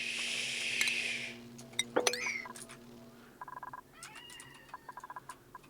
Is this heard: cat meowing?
yes